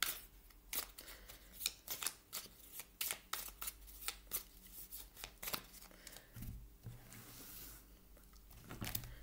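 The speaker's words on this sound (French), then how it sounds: "Je coupe le jeu en deux parce que vous voyez, il est très très grand, il y a 200 cartes, donc je ne peux pas tout brasser dans mes mains" A very large deck of 200 tarot-style cards being shuffled by hand, split in halves, giving repeated crisp riffling bursts and soft slaps in an irregular rhythm, close and fairly quiet with no talking.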